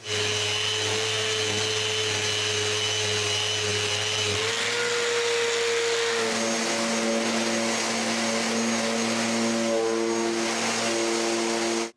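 A power sander working on a large wooden door frame, a steady loud whirring drone that shifts slightly in pitch partway through, continuous and close with no talk.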